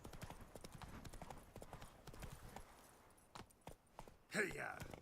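Roach the horse's hooves clip-clop in The Witcher 3: Blood & Wine as a steady repeated walking rhythm, moderately close, mixed under game ambience with a sharper burst near the end.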